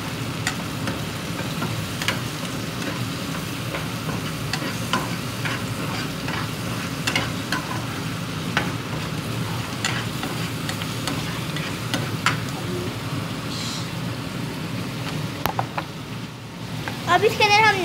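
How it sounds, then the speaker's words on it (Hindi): Chicken frying and being stirred in a pan with ginger-garlic paste, turmeric and chillies, a steady dense sizzle with scraping stirs throughout, close and fairly loud. "हम इसके अंदर चिकन भी डालेंगे, मिक्स करेंगे।"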